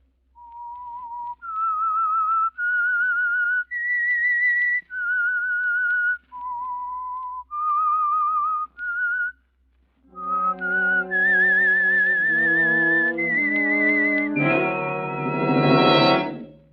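A whistled signal tune introducing The Whistler radio mystery program: a clear, melodic whistle moving through rising and falling phrases, then a fuller orchestral-sounding restatement of the theme building to a loud finish.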